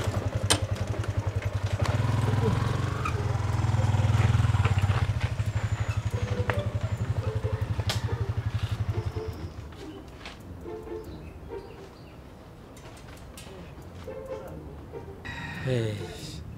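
A motorcycle engine runs steadily and loud for about nine seconds, then drops to a quieter idle. Talk continues over it throughout.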